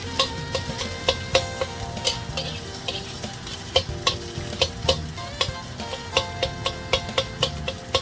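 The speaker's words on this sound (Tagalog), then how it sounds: "hintay natin medyo mag-golden brown at medyo luto na yung ating pork at saka minced garlic" Pork and minced garlic sauté in a pan, a steady sizzle punctuated by regular sharp clicks of a utensil striking the pan, close and rhythmic with no talking.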